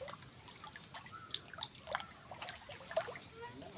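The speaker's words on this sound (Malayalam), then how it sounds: "കണ്ടോ, നമ്മുടെ മുറ്റത്തൂടെ വെള്ളം ഒഴുകുന്നു." Rainwater runs through a yard in a soft, continuous trickle, with scattered faint splashes over a steady high insect drone; no voices.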